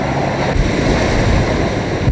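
A storm at the Manila pier drives strong wind and rushing floodwater, a loud, continuous roar of gusting wind and surging water with no voices.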